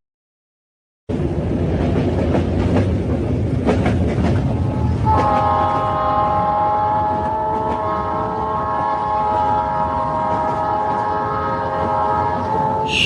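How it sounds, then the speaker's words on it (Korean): A train departs Jungwon Station with loud rolling rail rumble, then a sustained multi-tone whistle sounds close and strong, holding for several seconds over the continuing clatter. "희망의 청춘열차는 기적소리와 함께 중원역을 힘차게 출발하면서"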